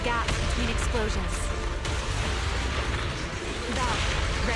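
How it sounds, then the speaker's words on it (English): Deep rumbling booms and bursts of video game explosions roll continuously under a dense, noisy soundscape, loud and close, with no clear gaps. "Move in during the gaps between explosions."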